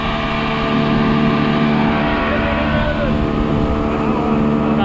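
A fishing boat's engine runs steady and loud, a continuous close drone on open water off Trinidad during hand-line fishing near a wreck and river mouth.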